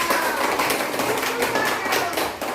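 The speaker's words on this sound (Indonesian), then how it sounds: "Tepuk tangan untuk Rakel Mama Dua" A classroom of students claps for a classmate, dense sustained applause at close range, loud and even throughout.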